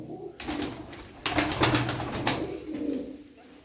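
Male pigeons of a Perdeli Irak flying breed coo in soft, repeated throaty bursts, close by and moderately loud, with someone talking intermittently nearby.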